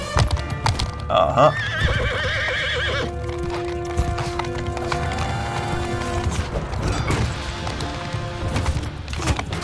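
Horse hooves clip-clop at a gallop with a neigh in Mount & Blade II: Bannerlord, mixed with game combat clatter and music; someone talks over it.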